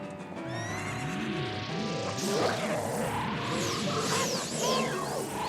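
A horse neighs and whinnies with a long, wavering call in Zelda: Ocarina of Time, loud and close, with hoofbeats and game sound effects around it and no voice.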